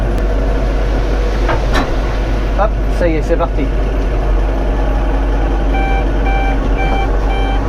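A tractor engine idles steadily with a deep continuous rumble as manure is unrolled, with a few clanks and a short beeping near the end under brief talk.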